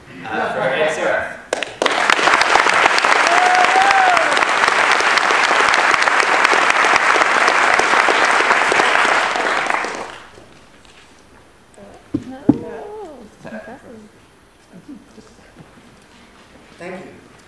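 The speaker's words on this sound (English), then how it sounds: "Let's have a big round of applause." University of Michigan School of Music audience at an Ignite event breaking into loud, sustained applause for about eight seconds before it fades, followed by quiet room noise and a few scattered sounds.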